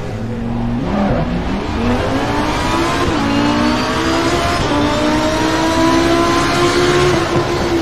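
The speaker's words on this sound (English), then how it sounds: "Gotta start the engine now." A race car engine in Assetto Corsa Competizione fires up and revs continuously, its rising, steady drone loud and close throughout.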